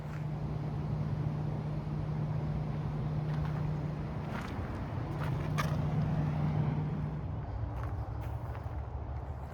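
Traffic from Interstate 70 rumbles nearby along a high mountain trail, a steady broad roar with passing vehicles swelling and fading, mixed with some wind.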